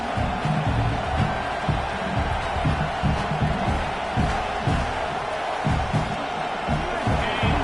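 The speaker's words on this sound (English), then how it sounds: "This crowd going to try to make life miserable for these guys." A large crowd at a football stadium roars and chants in loud, rhythmic surges, a dense wall of voices pulsing steadily throughout, close and enveloping.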